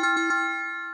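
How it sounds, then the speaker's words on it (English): A Pomodoro timer app sounds a bright electronic bell, with clear ringing tones that strike a few times in quick succession and then fade out alone. "The bell sound alerts the user when the time is up."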